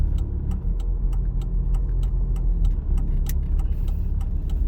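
Car driving at low speed in second gear during a practical driving exam, a steady engine and road drone with a regular ticking like an indicator running through it.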